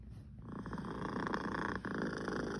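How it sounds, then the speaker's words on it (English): A content cat purrs close to the microphone, a continuous low rumbling vibration that stays steady and loud throughout with only a faint dip partway. "that purring sounds like a very happy kitty to me"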